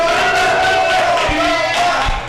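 Crowd at a professional wrestling show in Lansing cheering loudly, a dense sustained roar of voices and shouts with a few thumps beneath.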